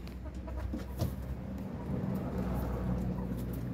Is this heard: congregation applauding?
no